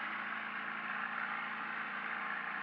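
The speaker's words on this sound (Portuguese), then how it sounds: "Motor cavitando." A sailboat's outboard motor cavitates as it rides through waves, giving a steady, strained whirring drone with a hollow, frothy edge that holds evenly throughout, with no one talking.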